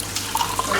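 Beef stock (yakhni) being poured into a pot of soaked rice for beef boti pulao, a soft, steady liquid splash and trickle close by at low level with no talk.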